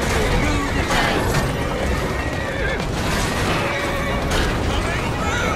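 Horses neighing and hooves clattering as horse-drawn carriages race through the streets in the video game Assassin's Creed Syndicate, a dense, loud game mix with voices talking over it.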